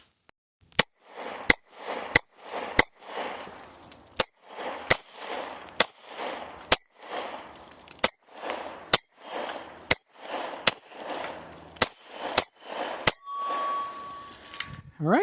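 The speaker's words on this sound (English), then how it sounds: "we'll shoot all 15 rounds" A Glock 43X pistol fires a magazine of 9mm rounds, about fifteen sharp loud reports at a steady pace roughly one per second, each followed by a brief outdoor echo.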